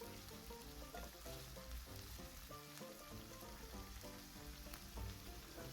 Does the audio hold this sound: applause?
no